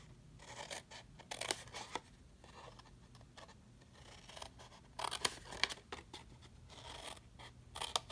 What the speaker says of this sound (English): Again, cut up all your score lines.